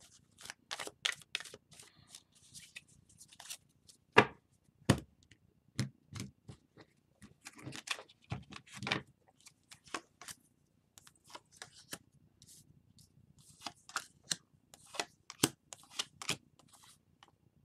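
Tarot cards being shuffled and handled in a quiet room, with scattered soft riffles and flicks coming in uneven bursts separated by short pauses, close but faint.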